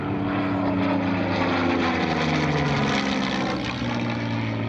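Spitfire propeller aircraft in flight: a loud, continuous piston-engine drone with a steady throbbing hum and a slight pitch shift as it passes, no voices.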